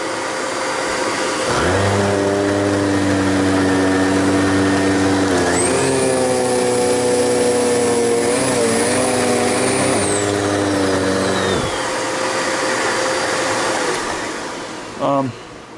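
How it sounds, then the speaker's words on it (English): Canister vacuum power heads on the high setting give a steady, loud motor roar that rises in pitch as it spins up, holds with a high whine, then winds down, ending with a brief clatter. "try it with the power heads on the higher setting now."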